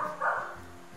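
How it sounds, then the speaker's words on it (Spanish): Dogs barking in Colombia, a close, loud bark and yip followed by a fading whine, heard alone without talk. "Siempre ladran los perros por ladrar."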